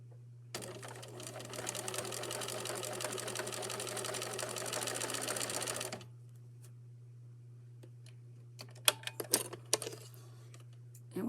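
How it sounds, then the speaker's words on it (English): A sewing machine stitches straight across a piece of fabric in one continuous buzzing run of about five seconds, then stops, leaving a low steady hum and a few light clicks and taps. "one side I'm going to stitch all the way across"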